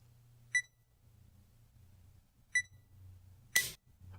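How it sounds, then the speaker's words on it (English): A shogi game clock gives three separate electronic beeps about a second or two apart, close and clean. The last beep is louder and broader than the first two, over a faint low hum. "You get the one beep, and then once it hits 5, you get the beep, beep, beep."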